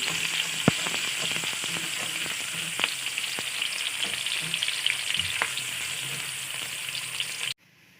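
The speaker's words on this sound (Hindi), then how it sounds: "कुकिंग ऑयल गर्म हो तो आप भी प्याज में डाला करें, फिर जल्दी अच्छे से फ्राई हो जाता है।" Chopped onions fry in hot cooking oil for matar pulao, giving a steady, close hiss and sizzle with a few light stirring clicks, then an abrupt cut to near silence at the end.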